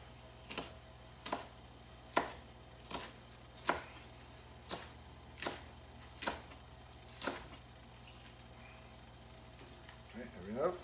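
A knife chops green onion on a cutting board in about ten evenly spaced, crisp strikes roughly one per second, close and moderately loud, with a faint steady background hum.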